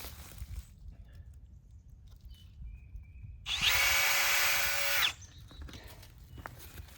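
A power drill bores into the trunk of a healthy backyard maple tree for tapping, a single steady whine lasting about a second and a half and rising out of quiet outdoor background.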